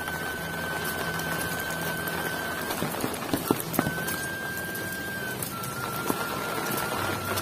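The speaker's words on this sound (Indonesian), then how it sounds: "kalau memang lagi hujan kayak gini mah" Light rain patters over a Sundanese village in an even background wash, with a few sharp knocks and long high whistling tones drifting through.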